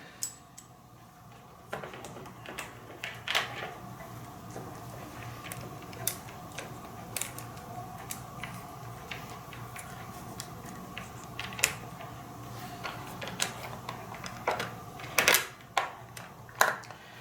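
Mechanical clicks and ticks from refitting the blade on a Craftsman CMECH600 electric chain saw, sparse taps and snaps scattered over a low steady hum, close and moderately loud with no voices.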